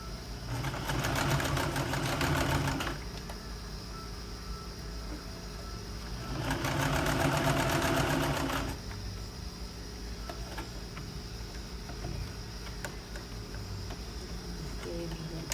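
A sewing machine stitching a shirt seam runs in two buzzing, rapid bursts of a few seconds each, separated by quieter pauses with a low mechanical hum, close by.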